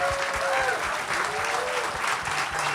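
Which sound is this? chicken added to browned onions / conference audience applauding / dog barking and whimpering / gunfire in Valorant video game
conference audience applauding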